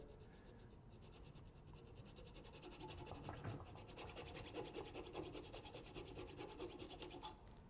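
A hand saw cutting into wood for a spline joint, making quick, steady rasping strokes that grow slightly stronger as the cut gets going. The sound is quiet and close, with no talking.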